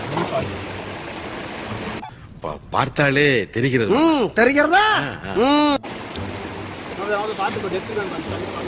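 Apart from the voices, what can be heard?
small waterfall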